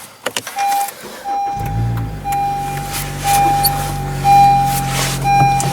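A Honda Civic Si engine cranks briefly after a few clicks and catches, then settles into a steady idle heard from inside the car, with a high chime tone repeating over it.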